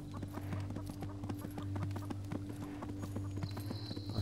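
Horse hooves clip-clop in a steady, even trot in the video game Disciples Liberation, layered over sustained game music.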